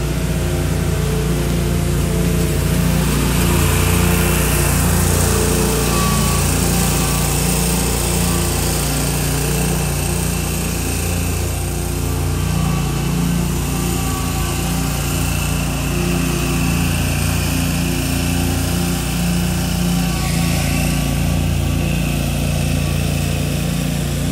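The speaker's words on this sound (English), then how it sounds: "Oh, lawnmowers are here." Lawn mowers running in a park, engines droning loudly and steadily throughout with a slight rhythmic pulse and no talk.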